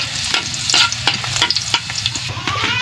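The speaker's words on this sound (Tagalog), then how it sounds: "mainit na nga ang mantika. Pwede na nating ilagay ang ating bawang." Garlic sautés in hot oil, giving a loud close sizzle broken by scraping strokes of a stirring utensil, with no talking.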